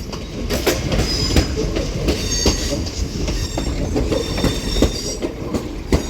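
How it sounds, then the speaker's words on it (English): A Northern Class 323 electric train pulls into Manchester Piccadilly on the 15:05 service from Stoke-on-Trent, its steady rumble and clattering wheels filling the platform, with faint high-pitched wheel squeal over continuous, fairly loud rail noise and no voices. "which is forming the 1505 Northern service from Stoke-on-Trent, terminating into here in Manchester Piccadilly now."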